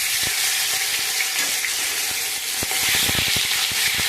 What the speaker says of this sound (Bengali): চিকেনগুলিকে ভালো করে হালকাভাবে ভেজে নেব